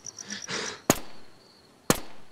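Two sharp, loud gunshots about a second apart ring out from a firearm in the survival shooter game The War Z, each a single crack with a short tail, over a faint background hum.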